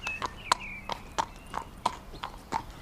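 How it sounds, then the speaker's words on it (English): A horse walks on a hard surface in a rural village drama scene, its hooves clip-clopping in a steady, evenly spaced rhythm of sharp, fairly close knocks. "Nice horse."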